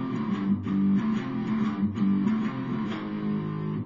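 Electric guitar tuned to drop D plays the opening riff of a song: chunky, rhythmic low chords with repeated attacks, close and unaccompanied.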